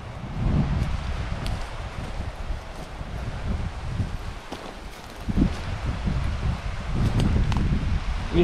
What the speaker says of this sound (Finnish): Ihanasti tuulee.